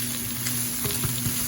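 Meat hits a hot wok for fried rice and frying starts at once, a loud, close sizzle with a few soft bumps from stirring, with no speech.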